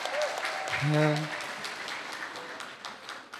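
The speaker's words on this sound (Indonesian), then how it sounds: "Tepuk tangan sekali lagi untuk pembicara-pembicara kita." Audience applause for the speakers at a seminar event, a steady wash of clapping filling the short stretch, with a voice briefly calling out over it near the middle.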